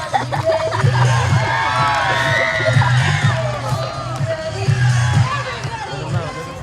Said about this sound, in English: They got the crowd going wild.